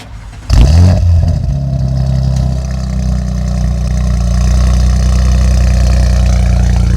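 A car engine cold start: it cranks and fires with a sharp roar, then settles into a loud, high idle that drones on steadily, close by.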